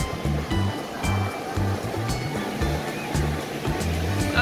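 Ocean surf at Laguna Beach, a continuous broadband wash of breaking waves with a steady rumble throughout, over a repeating low rhythmic background sound.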